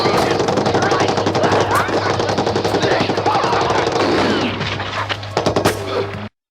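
Sustained machine-gun fire from a battle scene in the 1981 war film Gallipoli, dense rapid bursts of gunshots over a constant low rumble, loud throughout before cutting off abruptly.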